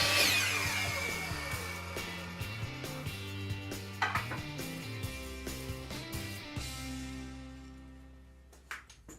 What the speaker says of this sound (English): my miter saw, and then I cut it to a 45, cutting the whole corner off